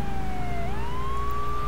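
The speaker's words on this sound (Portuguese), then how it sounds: "Vou deixar a sirene sempre ligada aqui, né?" A police car siren in the video game GTA 3, during a vigilante mission, wails steadily with a rising sweep over a low engine rumble, loud and close, with no talking.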